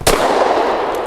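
A single sharp gunshot from a Zev Technologies OZ9C Hyper Comp pistol with X Grip, a loud, close crack at the start that decays quickly into a brief outdoor echo.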